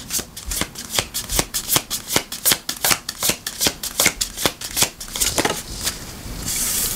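Tarot cards shuffled and handled close up, a rapid run of crisp riffling snaps and flicks in uneven rhythm, fading into a soft sliding rustle at the end.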